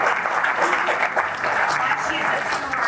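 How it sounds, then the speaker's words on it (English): Audience applause at a country club gathering, a steady dense wash of clapping from a sizable crowd lasting throughout, with some voices mixed underneath. "I think she deserves a round of applause."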